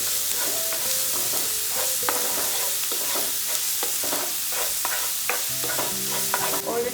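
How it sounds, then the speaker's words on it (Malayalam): Onions sautéing in oil in a pan for a Kerala-style prawn roast, a loud continuous sizzle broken by repeated spoon scrapes and stirring strokes, close up. "ഇനി അതേ എണ്ണയിൽ തന്നെ നമുക്ക് ഈ സവാള ഇട്ട് കൊടുക്കാം. ഇതുപോലെ നന്നായിട്ടൊന്ന് വഴറ്റിയെടുക്കണം."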